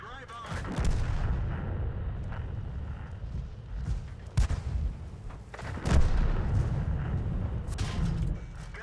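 Tank gunfire in the World of Tanks video game, heavy booming cannon shots landing at intervals, two sharp loud blasts standing out over rumbling battle noise, with a voice talking in between.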